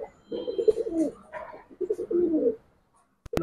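Stone-eyed Giribaz pigeons coo in two soft, throaty bursts at close range in a pigeon market, followed by a brief quiet gap and a sharp click at the end.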